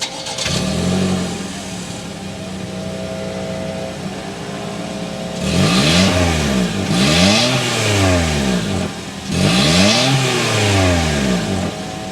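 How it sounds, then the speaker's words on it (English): A 2.0-litre 2023 Toyota Corolla Cross XLE cranks and fires, idles briefly, then gets three strong revs of its exhaust, each rising and falling close by, with no talking. "start it up so you can hear that exhaust sound"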